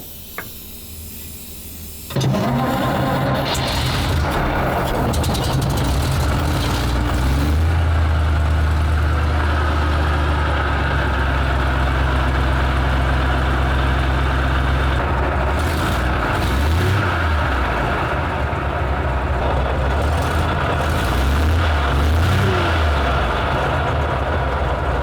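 A WWII tank engine cranks over on starting fluid and then catches, a loud, steady, deep rumbling idle with a few surging revs, and the low drone fills everything after an abrupt start near the beginning.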